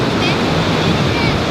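Ocean waves wash steadily onto a beach in a continuous loud roar with wind noise, no pauses or voices standing out.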